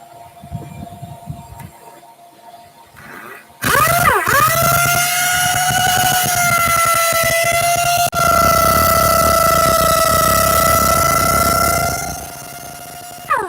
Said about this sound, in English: like I said before, orbital sander